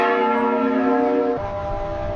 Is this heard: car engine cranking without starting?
no